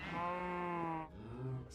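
A sheep in the Minecraft video game gives a loud, close bleat, followed by a shorter second one.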